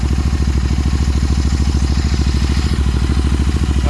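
A Continental GT 650 motorcycle fitted with a Red Rooster exhaust idles with a deep, even, loud rumble, its steady pulsing throb close by and alone.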